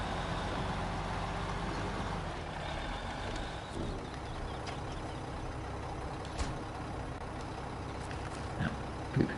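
Heavy logging truck engine in SnowRunner, a steady low rumble with a deep drone running throughout, joined by faint mechanical clunks and a few brief sharper knocks near the end.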